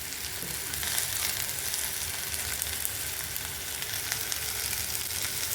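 Egg and capsicum side dish sautéing in a pan, a steady dense sizzle that holds evenly throughout at close range, with no voices.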